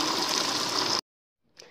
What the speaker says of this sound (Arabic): وده طبق التاني مليتهم هما الاتنين ميه سخنه سخنه خالص من الحنفيه